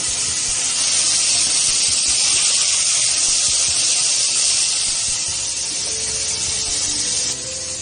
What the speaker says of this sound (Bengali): এইভাবে বাকি চিংড়িগুলোকেও ভেজে নেব।